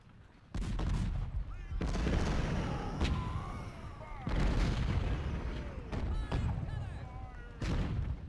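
Battlefield gunfire and artillery in Ultimate General: Civil War: repeated rolling volleys of musket fire and booming cannon, each burst lasting a second or more over a constant low rumble.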